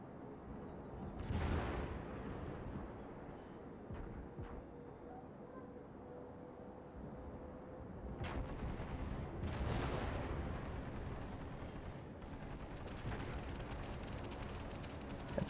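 Naval guns fire in a video game, booming blasts recurring at irregular intervals over a steady rumbling background, with a few sharper reports standing out among the heavy thuds.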